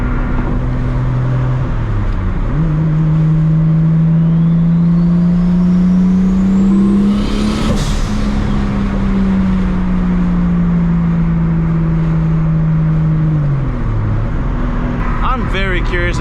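A 750HP Toyota MKIV Supra cruises in sixth gear, heard from inside the car as a loud, steady engine drone that slowly climbs in pitch, holds, then eases off, over constant road noise.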